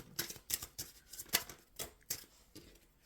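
Rapid papery riffling and soft slaps of tarot cards being shuffled, in uneven bursts close by, with no talking.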